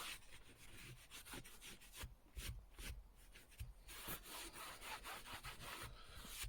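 A cloth buffs leather treated with Renovo leather reviver, a soft, steady rubbing and swishing with repeated strokes, quiet and close, with no voices.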